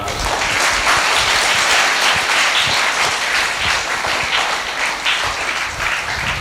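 A church congregation at a village feast claps hands loudly and continuously, a thick sustained wash of applause filling the whole stretch with no speech over it.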